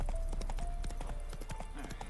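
Roach, the horse in the Witcher 3 video game, clip-clops along in a steady run of hoof beats over a low game background, with a faint tonal hum running underneath.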